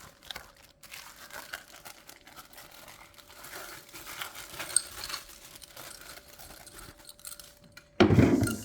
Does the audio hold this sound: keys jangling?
yes